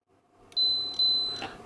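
Capacitor tester giving two clear high-pitched electronic beeps for a good capacitor, close and loud, the second following shortly after the first, with no talking.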